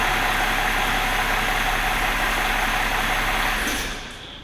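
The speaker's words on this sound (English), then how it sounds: "Let me turn the engine off" A car engine runs at a steady, close idle with a broad rumbling hum, then winds down and fades near the end as it is switched off.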